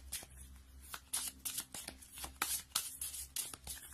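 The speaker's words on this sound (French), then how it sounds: "On va prendre une carte du tarot du bien-être pour voir si on peut avoir un petit message complémentaire" Tarot cards are shuffled in a steady series of crisp riffling bursts, close and fairly quiet, with no voices.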